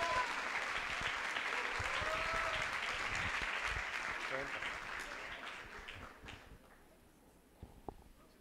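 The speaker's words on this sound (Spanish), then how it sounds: "Un aplauso para nuestros próximos diamantes." Audience applause at a business opportunity meeting, sustained and steady at first, then thinning out over the last couple of seconds into a few scattered claps.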